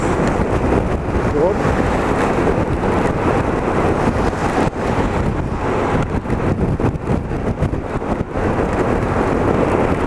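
A strong headwind roars against a motorcycle rider at night in a storm, a constant loud buffeting rush that fills the whole clip.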